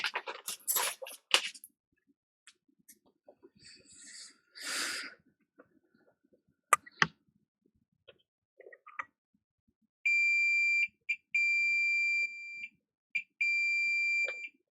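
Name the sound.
multimeter beeping while checking for a short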